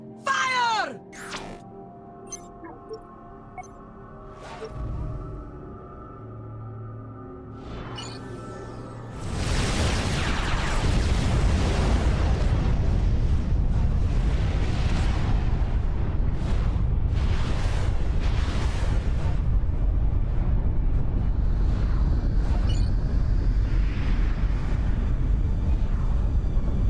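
Black Sun superweapon firing in a video game, a sudden massive blast after scattered quieter effects, then a long loud roaring, crackling rumble that sustains to the end.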